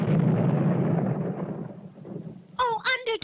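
Cartoon bomb explosions in an animated superhero show, a broad booming rumble that swells loudly and slowly fades, followed by a character's voice speaking.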